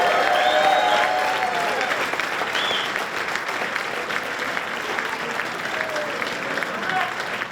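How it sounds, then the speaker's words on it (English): Audience at a Nashua Senior High School athletics hall of fame ceremony applauds steadily throughout, a dense room-filling round of clapping that holds at an even level from start to finish. "how about a nice subdued round of applause"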